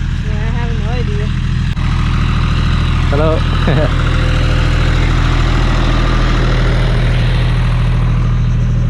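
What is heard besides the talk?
tractor engine running on a beach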